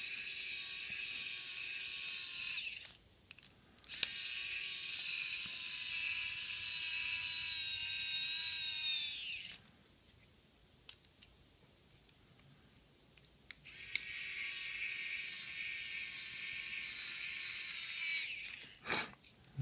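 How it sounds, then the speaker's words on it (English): A powered screwdriver whirs in long sustained bursts while screws go back into a small plastic Xbox One headset adapter casing, with a quiet gap between runs. "Go ahead and start screwing it back together."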